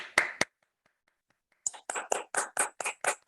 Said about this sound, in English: A round of applause for Toastmaster Chineze.